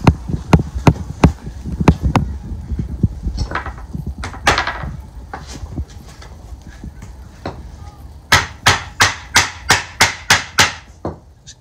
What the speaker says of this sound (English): just set it all out and nail it all together